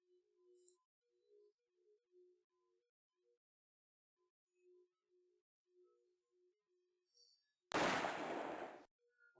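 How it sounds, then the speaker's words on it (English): A gunshot sound effect from a shovelware video game fires as the on-screen text advances: soft, sparse game music notes play first, then one loud, sharp blast rings out near the end and quickly stops. "Why does it make a gunshot when it moves to the"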